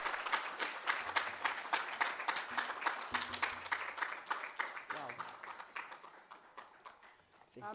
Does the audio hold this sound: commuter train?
no